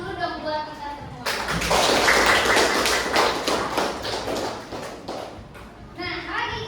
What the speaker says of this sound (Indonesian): Aplaus dulu dong buat kita semua.